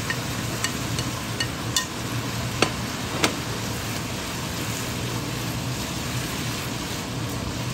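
Vegetables and potatoes for lumpia sautéing in a pan with soy sauce, a steady close sizzle with occasional sharp clicks and taps of a utensil against the pan.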